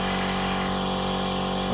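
Air compressor running during rust removal work on a VW T4 Multivan, with a loud, steady mechanical drone and hum that holds constant throughout.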